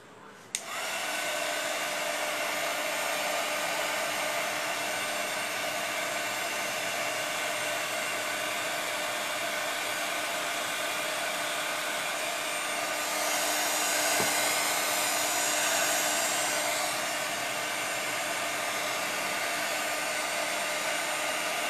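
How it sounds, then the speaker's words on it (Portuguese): A handheld heat gun blows air steadily while crafting a snow-effect panettone holder, a constant loud whooshing roar with a whine that starts abruptly and runs unbroken, close by and alone. "só dá certo com o soprador"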